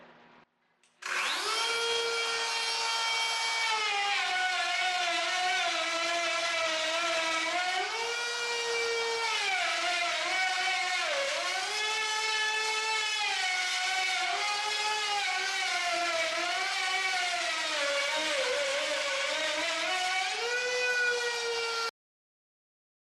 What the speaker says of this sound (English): I'll drop my router bit another 1/4 of an inch and continue with another pass.